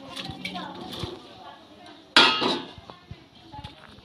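Cauliflower pieces drop into water in a kitchen wok with a sudden splash and clatter, followed by a few small clinks of utensils at close range.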